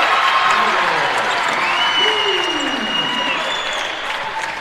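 A basketball crowd applauding and cheering at a men's college game between Alameda and Columbia College, sustained clapping under a play-by-play commentator's voice and other voices.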